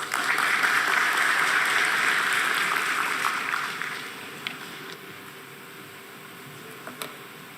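Applause from an audience welcoming the chairman of Sai Silks Kala Mandir on stage at a stock exchange listing ceremony, full and steady for a few seconds, then tapering off to a few scattered claps and room quiet.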